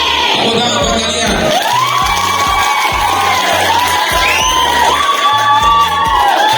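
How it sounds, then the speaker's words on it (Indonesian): Students at an anti-drug awareness session in Indonesia cheer and shout together, a loud, continuous crowd roar with whoops over pulsing background music. "Tepuk tangan buat kalian"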